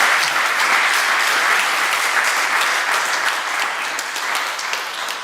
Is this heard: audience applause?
yes